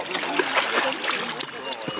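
Water splashes and sloshes continuously at a nautical club on Réunion island, with paddling and spray close by while people talk over it.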